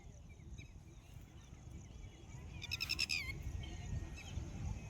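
Goats graze in a field of green fodder, a brief bleating call rising faintly over a steady outdoor hiss and low rumble.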